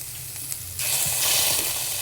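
Thinly sliced onions fry in a pan for chilli chicken, and the quiet sizzle jumps to a louder, brighter hiss partway through as red chilli sauce goes in, then holds steady.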